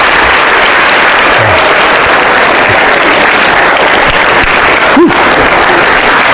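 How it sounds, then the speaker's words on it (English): A school assembly crowd applauds loudly and continuously, a dense wash of clapping close up and saturating the room, with a brief thump partway through. "Please give these two beautiful people a round of applause."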